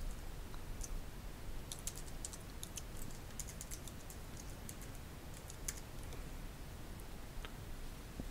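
Steady, rapid typing on a computer keyboard while renaming a file, a close run of light key clicks with a few sharper taps over a faint hiss, and no voices.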